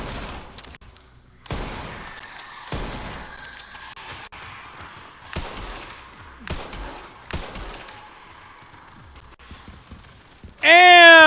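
Fireworks going off in a video game: a string of sharp, loud bangs about a second apart, each with a short tail, ending in a bright rising electronic tone.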